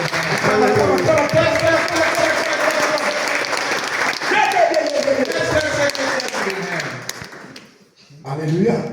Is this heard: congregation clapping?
yes